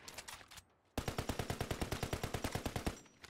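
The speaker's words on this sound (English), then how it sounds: "Oh, they're shooting us back." Rapid automatic gunfire in a video game, a brief burst followed by a long steady stream of evenly spaced shots, loud and close, with no talk over it.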